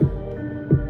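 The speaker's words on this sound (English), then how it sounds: "It's like an echo clap." Two soft, booming hits of an echo clap drum sample about two-thirds of a second apart, each with a lingering, reverberant tail.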